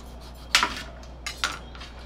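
A knife slices off the top and bottom of a raw papaya for chutney, giving two short crisp cuts with faint clinks against a board, fairly close with no talk.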